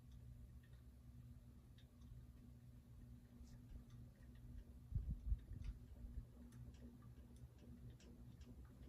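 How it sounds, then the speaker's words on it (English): A ceiling fan ticks steadily and faintly, a soft regular clicking over a low motor hum in a quiet room. "Still making some ticking noise, but it's reduced."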